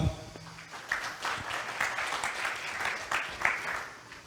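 A conference audience applauds speakers at a networking event, a moderate patter of scattered clapping in a hall, fairly distant and uneven over a few seconds.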